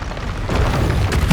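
A Confringo spell blast in the Hogwarts Legacy game, a loud booming explosion with a dense rumbling burst that holds strong throughout and swells toward the end, amid other combat noise.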